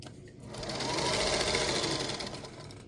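A sewing machine stitches a quilt block seam for a shortcut star block, running in one continuous fast whirring burst that swells and eases off over a few seconds, close and loud.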